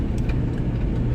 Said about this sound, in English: it's very noisy. The engine is right beneath me